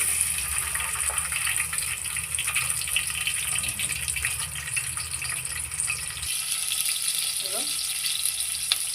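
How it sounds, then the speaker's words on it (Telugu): Onions and green chillies fry in hot oil for mutton curry, a steady close sizzle and crackle holding throughout with faint water-like hiss and no talk. "ఉల్లిపాయలు పచ్చిమిర్చి అయితే వేగుతున్నాయి చూడండి."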